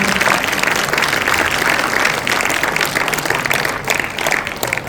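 A workshop audience applauds Professor Graizbord with steady, dense clapping that fills the room and holds near-constant loudness throughout.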